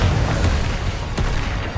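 A Confringo blast explodes in the game Hogwarts Legacy as a dense, loud rumbling boom that fills the whole stretch, with a fainter crack partway through and no voice heard.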